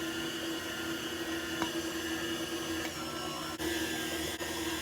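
An electric mixer beating butter pecan cake batter gives a steady whirring motor drone with a constant hum, holding level at close range with only slight dips near the end and no talking.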